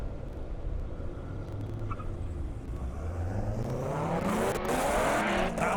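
Corvettes, including a ZR1, race down an airstrip at a roll-racing event, engines roaring and rising in pitch as they accelerate and grow louder toward the end.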